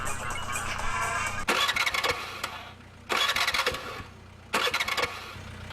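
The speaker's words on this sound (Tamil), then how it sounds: "வண்டி எடுக்க ட்ரை பண்ணுறா." A car engine is cranked three times in a row. Each loud, close churning burst lasts about a second, and a steady hum carries on underneath.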